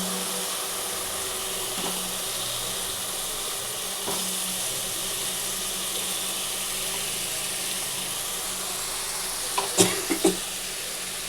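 Cauliflower and potato pieces frying in hot oil with spices for a katla fish kalia, a steady loud sizzle with a few clinks and a burst of sharper clatter near the end.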